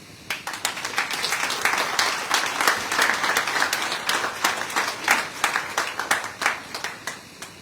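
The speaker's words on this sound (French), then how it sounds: "ne vous arrêtez pas d'applaudir" Audience at a prefecture solidarity-days event in Guadeloupe applauding steadily, a dense wash of many hands with individual claps standing out, sustained without a break and no voices.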